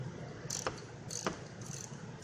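A ratchet works on the brake bracket bolts of a 2011 Ford Fusion, giving a few quick, faint metallic clicking bursts in close succession over quiet garage background.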